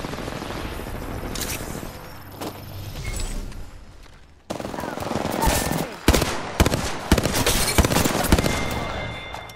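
Gunfire in the Apex Legends video game: sustained automatic bursts and rapid shots with sharp impacts, building after a brief lull, with a voice talking faintly underneath.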